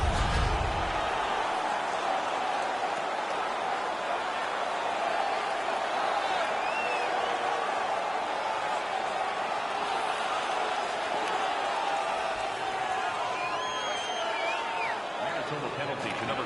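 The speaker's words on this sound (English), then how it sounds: "The crowd is ecstatic." A roaring arena crowd in the video game NHL 17 cheers after a hockey fight, a loud, steady wash of noise that holds for the whole stretch.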